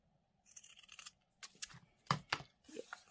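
Scissors snip through paper for a planner collage in a series of short, crisp cuts in quick bursts, close up and fairly quiet, with brief pauses between strokes.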